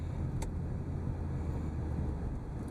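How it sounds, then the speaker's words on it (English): A steady low engine and road drone comes from inside a 1992 Cadillac Seville STS while it cruises, constant and moderate with a little wind, and no one talks. "And you can hear that engine."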